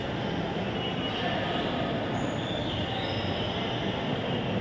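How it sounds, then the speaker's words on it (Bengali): A train at a modern railway station rumbles steadily throughout, with constant broadband wheel and carriage noise and faint high squeals, close and loud with no talk. "আসলে এটা অত্যাধুনিক রেল স্টেশন"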